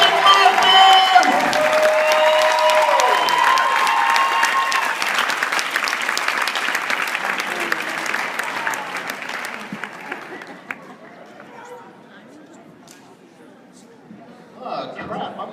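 A large crowd at a swing dance show applauds and cheers loudly, the clapping gradually thinning and fading over several seconds before a brief renewed burst near the end.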